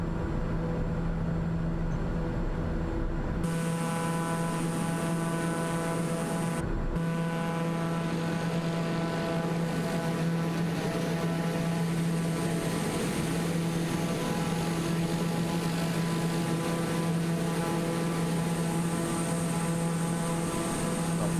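An ATR 72-600 turboprop airliner in Microsoft Flight Simulator 2020 drones steadily in low-altitude flight, a continuous propeller hum with a strong low tone and a broad engine wash, with no one talking.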